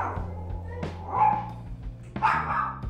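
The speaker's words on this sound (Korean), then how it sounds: "이내 다시 짖기 시작합니다." A dog barks close by in a short burst, three or four sharp barks in an uneven rhythm, with whimpering tones in between.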